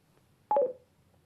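A FREECOM 2 intercom gives a single short electronic dialing tone as it places a call home, a brief clear beep sequence lasting under half a second against near silence.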